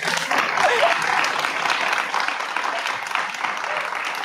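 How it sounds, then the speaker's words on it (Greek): Studio audience applause on a Greek television talk show, a dense, steady burst of clapping that holds loud and even for several seconds with no one speaking over it. "Ένα χειροκρότημα!"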